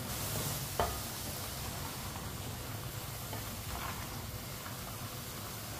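Turnips and chicken sizzling faintly in a pan give a low, steady frying hiss, with an occasional soft scrape of stirring and no talk.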